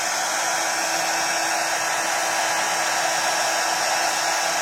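An embossing heat tool runs as it melts embossing powder on a small art card, giving a loud, steady, close blowing whoosh that stays unchanged the whole time with no voices.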